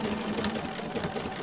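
A sewing machine runs a ladder or blanket stitch to attach an applique around a curve in a quilt block, a brief close whirring hum with quick repetitive needle clatter, no speech.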